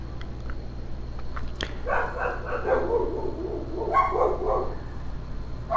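Dogs barking indoors in two bursts of several yapping barks, moderately close over a steady low background hum, no talking.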